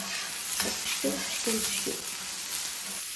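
Unpeeled garlic cloves frying in hot oil, a steady hiss and sizzle with a few short stirring scrapes and clicks over it, close and fairly quiet, no voices.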